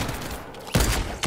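Two sharp sniper rifle shots in the Fortnite video game crack out close and loud, the second following the first after about half a second, with a brief tail after each.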